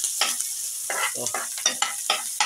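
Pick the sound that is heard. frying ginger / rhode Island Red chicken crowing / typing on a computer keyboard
frying ginger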